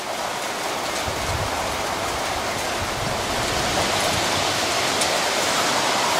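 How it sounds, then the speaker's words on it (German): Steady, heavy rain arriving with a cold front in Mittersill, Austria, a dense, even hiss of rainfall on surfaces that holds constant throughout, with no voices. "Jetzt kommt der Regen an."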